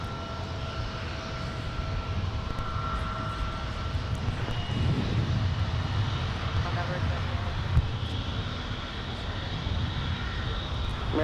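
A large airliner, an Airbus A350, descends to land at Minneapolis–St. Paul airport, its engines a steady broad roar that swells slightly mid-pass and stays loud throughout, with faint radio chatter mixed in.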